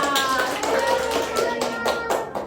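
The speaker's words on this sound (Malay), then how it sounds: "Tepuk tangan ke Naila" Kindergarten children clapping their hands together for a classmate, a burst of many small overlapping claps close by, steady for a couple of seconds with voices mixed in.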